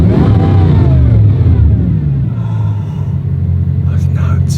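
A Ferrari Formula One car engine rumbles and revs loudly in an enclosed, echoing space, its low drone sustained throughout with a brief rising pitch sweep.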